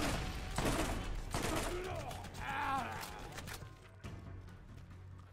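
Burst-fire shots from an explosive weapon in the Borderlands video game: several rapid cracks in quick clusters with mechanical clanks and a whirring, creaking weapon effect, moderately loud at close range.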